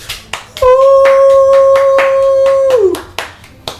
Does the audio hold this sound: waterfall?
no